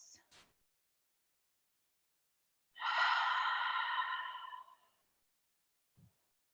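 A deep breath during a yoga hip opener in a vinyasa flow class, a single long, close, breathy exhale lasting about two seconds and surrounded by near silence.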